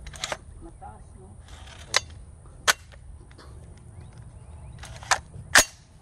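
An AR rifle fired outdoors on a farm, with several sharp, brief reports spaced across the stretch, some fairly faint and distant-sounding, over a low rumbling background and murmuring voices.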